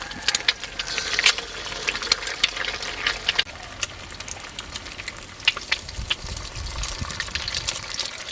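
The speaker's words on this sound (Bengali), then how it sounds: "আমি ডিমটাকে ঝুড়ি ঝুড়ি করে ভেজে নেব।" Eggs fry in a pan over a village stove with irregular crackling and sizzling spatters, alongside scraping stirring sounds and a low background rumble, moderately close and without speech.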